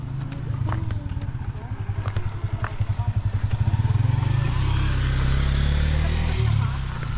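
A motorcycle passes close by, its engine putter rising to a loud, rhythmic throb before settling into a steady drone as it goes by, with faint voices in the background.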